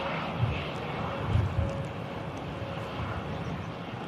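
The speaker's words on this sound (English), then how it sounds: "EasyJet A320 on a taxi out here" EasyJet Airbus A320 taxiing out at Manchester Airport, a continuous distant jet engine roar with a faint steady whine, broad and even, with a few low bumps from wind on the microphone.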